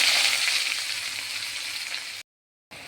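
Onions with black cumin seeds sizzle steadily in hot oil in a pan, a loud, even hiss that cuts out briefly near the end before resuming.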